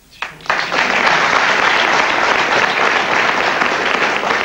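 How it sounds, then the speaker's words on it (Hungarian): Studio audience applause on a Hungarian comedy show, a sustained, dense wash of clapping that swells within the first half second and stays loud and steady without voices. "Most tessék, senki nem nevetett, csak tapsoltak."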